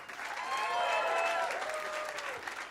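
Steady audience applause fills a comedy magic club, with a dense patter of clapping holding through the stretch and faint crowd voices and a whistle-like tone mixed in.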